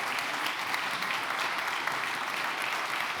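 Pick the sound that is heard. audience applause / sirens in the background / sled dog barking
audience applause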